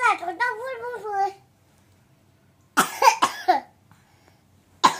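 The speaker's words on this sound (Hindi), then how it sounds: "खांसी हो गई मेरे बच्चे को आज" A child babbles briefly, then after a pause coughs several times in quick succession, with another cough a moment later, close to the microphone.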